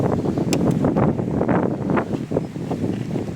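Gusty wind buffets the microphone in rough, rumbling bursts, loud and continuous with no voices.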